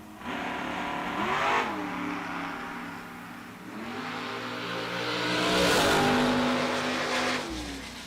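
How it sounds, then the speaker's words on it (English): Throttle stop drag race cars launch and accelerate hard at a drag strip event, engines roaring in loud overlapping surges with rising pitch, peaking near the end before cutting off. "I will always love the sound of a throttle stop car."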